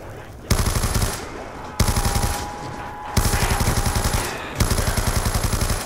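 Automatic weapon fire in Call of Duty Black Ops 2 Zombies, four loud rapid bursts of shots, each lasting about a second, separated by short pauses.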